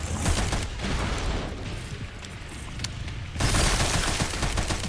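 Sustained gunfire in the survival-horror video game Resident Evil Requiem, dense rapid shots blending into a loud continuous roar that dips slightly mid-stretch and then surges back, with no voices over it.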